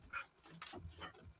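A dog barks in the background during a talk recording, a few short, fairly faint yelps with no speech over them.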